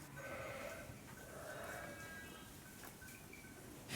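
Sheep and lambs bleating in a sheepfold during lambing season, several overlapping calls near and far over a steady crowded barn hubbub.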